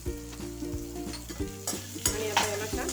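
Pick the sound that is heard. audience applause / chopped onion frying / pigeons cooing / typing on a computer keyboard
chopped onion frying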